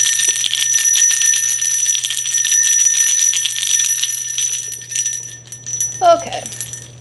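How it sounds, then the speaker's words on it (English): Handheld bells rung for a cleansing ritual, a bright sustained ringing with shimmering overtones that slowly fades, joined by a brief voice near the end. "I do have my bells here. We're going to ring these a couple of times"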